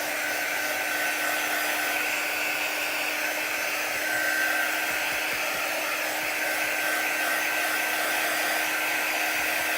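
A handheld hair dryer roars continuously over a chalk artwork, a steady, close, breathy rush with a faint whine and slight swells in loudness, and no voices.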